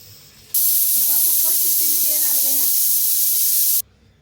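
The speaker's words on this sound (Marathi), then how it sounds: "तर बघा मस्त अशी कुकरची शिट्टी गेलेली आहे" A pressure cooker whistle bursts out loud and steady for about three seconds over a pot of gobi pulao with lemon juice, then cuts off sharply, with faint kitchen background before and after.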